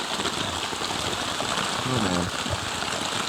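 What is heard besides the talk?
torrential jungle rain pouring down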